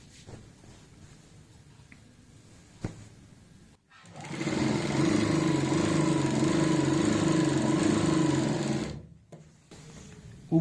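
A sewing machine stitches a salwar, starting after a quiet stretch with a few soft handling noises, then running loud and steady for about five seconds with a pulsing whir before stopping abruptly.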